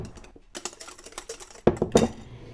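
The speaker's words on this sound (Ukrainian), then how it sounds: "беремо яйця і цукор, перемішуємо віночком до однорідності" A whisk beats eggs and sugar in a bowl with quick, irregular clicking taps of metal against the bowl. A few louder, closer strokes come near the end, with no talking.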